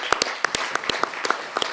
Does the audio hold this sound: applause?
yes